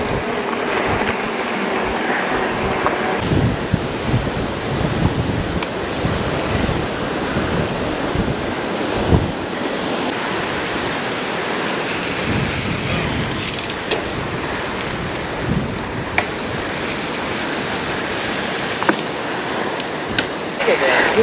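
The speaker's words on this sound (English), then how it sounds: "The wind is really blowing up here." Strong wind roars and buffets the microphone in steady gusts during an electric mountain bike ride, with faint voices now and then.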